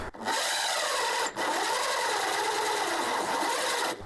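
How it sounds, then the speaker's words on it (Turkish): An electric drill bores through the wall of a caravan, a continuous close whirring drone with one brief dip in the middle, steady and loud. "Karavanımızı deliyoruz."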